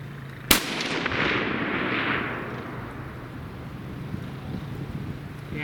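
A single sharp rifle shot fired at a target outdoors, a loud close crack followed by a long rumbling echo that fades under steady wind noise.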